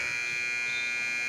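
A shot clock buzzer sounds at a high school basketball game in a gym, one loud, sustained electronic buzz that fills the whole moment.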